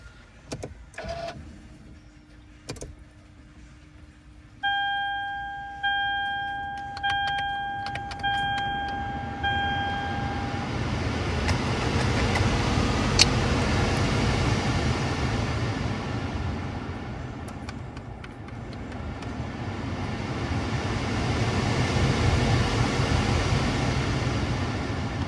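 A replacement blower motor in a Lexus car is plugged in and starts up. Short clicks and a whining tone come first, then a steady airy motor whoosh that swells and holds loud, with no talking.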